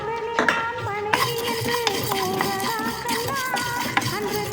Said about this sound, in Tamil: இப்போ வந்து ஒரு கப் மல்லி வந்து போட்டுக்குவோம்